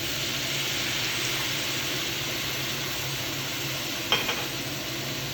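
Steak juices hit a leftover T-bone stir fry in a hot pan, a steady broadband sizzle with a couple of sharp spits and crackles partway through, close and continuous with no talking.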